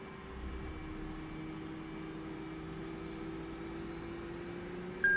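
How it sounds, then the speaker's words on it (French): F/A-18C Hornet jet engine spooling up slowly in the DCS flight simulator, a steady low hum with a rising whine held evenly throughout, with a brief click near the end. "Et le moteur va démarrer tout doucement."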